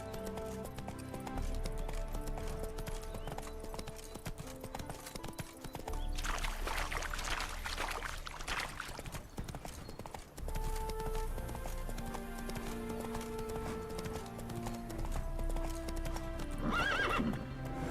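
Rhythmic hoofbeats of a galloping horse in The Witcher 3: Hearts of Stone under a layer of game music, with a couple of loud neighs and whinnies breaking through as the horse is spooked.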